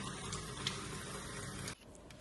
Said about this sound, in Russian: ополосните нож холодной водой, и слез не будет